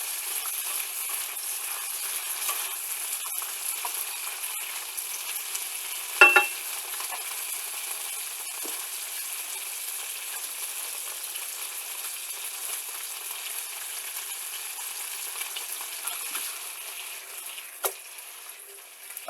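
A bean stir fry sizzles in a pan with a faint, steady hiss while being stirred, with only a few sparse utensil clicks and scrapes standing out.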